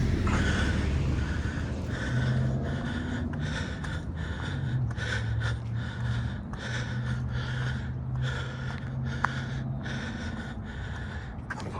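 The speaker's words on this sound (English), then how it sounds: "It's hard to talk when you're breathing heavy." A person breathes heavily after climbing uphill on a walk, with about a dozen rhythmic, forceful gasping breaths, close and loud over a steady background rumble, with no talking.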